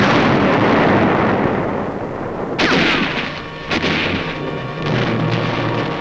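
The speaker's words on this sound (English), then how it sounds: "Marines attack enemy posts directly beneath them with bullets, hand grenades, and charges of explosives." Archival newsreel battle in a jungle with Marines using rifles, hand grenades and explosive charges: dense continuous gunfire and rumbling blasts, with sharper explosive cracks near the middle and end.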